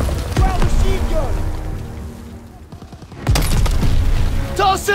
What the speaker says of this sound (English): Ground machine gun!